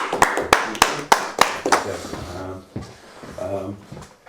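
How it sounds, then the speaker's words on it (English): Roughly half a dozen sharp, evenly spaced claps ring out close by for Ben at a communication workshop, then fade as a voice takes over and talks. "A round of applause for Ben"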